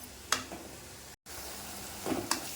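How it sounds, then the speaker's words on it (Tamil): Crushed garlic cloves sautéing in hot oil give a low, steady sizzle, with a couple of brief scraping stirs and one short dropout midway. "பூண்டு பல்ல நச்சு நசுக்கி அப்படியே போட்டுக்கலாம் வதங்கட்டும் பூண்டு பல்"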